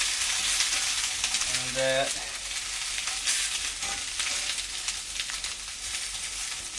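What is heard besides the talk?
garlic sautéing in a pan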